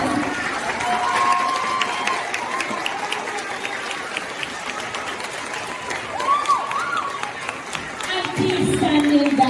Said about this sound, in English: can I have a standing round of applause for our guest speaker for this afternoon, please?